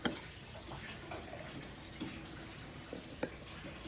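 Heated salt water, boiled beforehand, is poured into a jar of garlic and apple cider vinegar to fill it: a steady, close liquid pour and trickle with a few small splashes and clinks.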